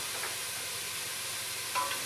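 Garlic sizzling in a pan for tortilla soup, a steady soft hiss of frying that holds throughout, with a faint stir or clink near the end and no talking.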